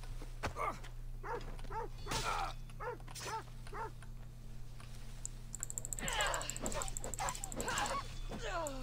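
A dog barks and whimpers in the video game Assassin's Creed Odyssey. A player talks over it, with keyboard tapping and game sounds mixed in.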